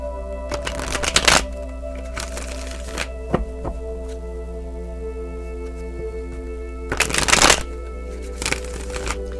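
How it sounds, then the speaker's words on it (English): Tarot cards are shuffled in three quick bursts of crisp riffling, close by, with quiet gaps between them and a steady low hum underneath. "Let's pull some more cards."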